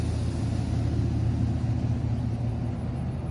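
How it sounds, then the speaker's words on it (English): A steady, heavy low rumble comes from a truck with loud exhaust pipes, its engine droning continuously and closely without pause or rising revs. "Notice me with my pipes on my truck."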